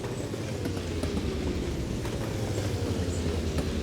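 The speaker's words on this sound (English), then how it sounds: "In fact, let's have a look at the diesel engine." A diesel train engine in the Mashinky railway video game rolls along with a steady, dense rumble and low hum, faint rhythmic rail clicks audible throughout and no speech.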